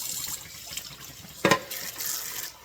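Water runs from a tap into a container of sprouting seeds, a steady soft trickle with one brief louder splash midway.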